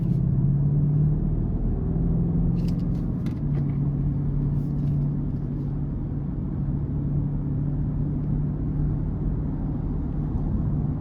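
Steady engine drone and road rumble from inside a 2020 BMW X7 M50i in Sport Plus mode as it heads onto the interstate, a constant low hum with no talking.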